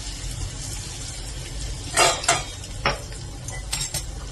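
Asafoetida, fenugreek spice and ginger-garlic-chili paste frying in hot oil in a pan, a steady sizzle with a few sharp bursts and clinks of a spoon stirring, close and fairly loud, no talking.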